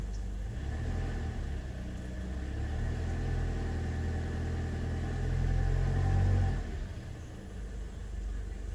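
A 2016 Toyota Corolla engine with a rough-running fault, idling in gear under load: a steady low rumble that swells slightly toward the end, then drops back, heard close with no talk.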